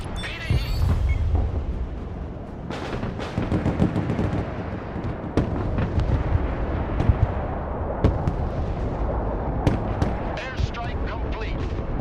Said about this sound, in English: Airstrike complete.